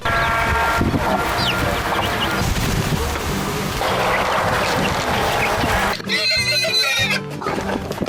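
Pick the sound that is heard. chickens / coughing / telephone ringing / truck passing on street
chickens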